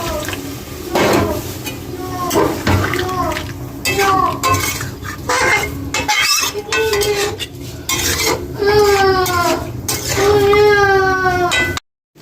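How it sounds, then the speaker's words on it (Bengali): Hot water is poured into a pan of cauliflower and coriander curry, close by. The sizzle and stirring clatter against the pan mix with splashing, and voices and a child's high-pitched chatter carry on throughout. "এবারে আমি এই গরম জলটা দিয়ে দেবো, একটু জল"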